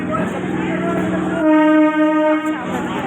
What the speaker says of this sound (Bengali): ট্রেন ঢুকে গেছে এখন